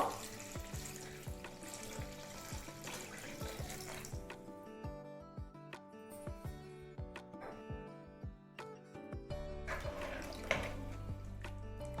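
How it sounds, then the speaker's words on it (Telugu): Water poured into mashed dal for Andhra pappu charu with drumsticks, a steady running splash from a tap or vessel with clinks and stirring knocks throughout, close and fairly loud, no talking. "ఇప్పుడు ఇదంతా బాగా కలుపుకోండి తగినన్ని వాటరు"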